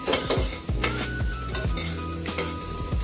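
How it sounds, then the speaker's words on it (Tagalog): Garlic hits hot oil in a saucepan for a Filipino crab and moonfish coconut dish, crackling in a loud, continuous sizzle, with a spoon stirring and scraping against the pot in repeated strokes. "lagyan natin yung bawang"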